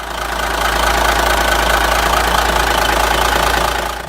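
A surplus Cummins NHC 250 diesel truck engine runs after years in storage, a loud, close, continuous rumble with a steady knocking throb that holds even throughout.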